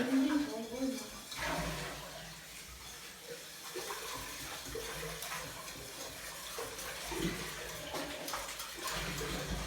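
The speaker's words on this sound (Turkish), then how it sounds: "Ben de şunları yıkayayım." Running tap water splashes continuously while dishes are rinsed and clatter, close up, with occasional brief voices in the background.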